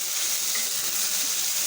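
Mushrooms frying in a pan for an Odia mushroom masala give off a steady, even sizzle close by, with no voices over it.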